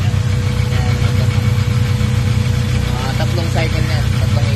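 A Honda Civic engine runs at a repair shop with a loud, steady idling rumble and a faint rhythmic knock, while people talk over it.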